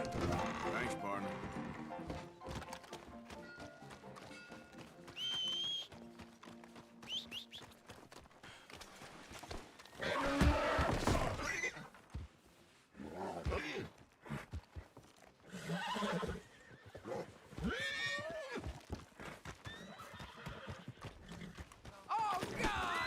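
Horse neighs and whinnies mixed with clip-clopping hooves in the Western open-world game Red Dead Redemption 2, with bursts of loud activity between quieter stretches and voices talking over parts of it.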